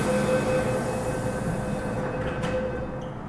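A metro train runs through North Point station in Hong Kong with a loud, steady rumble and hum of wheels on rails that fades slightly as it passes.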